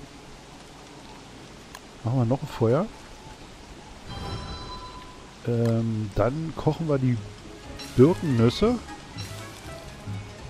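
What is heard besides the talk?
rain in the video game Don't Starve: Reign of Giants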